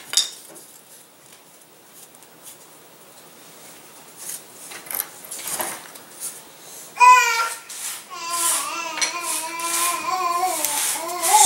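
Plastic glider launcher parts are snapped out of a moulded sheet, giving a run of sharp clicks and pops up close, with brief rattling and some squeaky plastic rubbing in the later half; no one talks.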